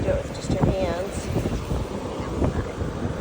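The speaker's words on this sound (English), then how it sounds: "It's so windy." Strong wind buffets the microphone on a cold, windy beach during shell collecting, a steady roaring rush with gusts throughout and faint voices underneath.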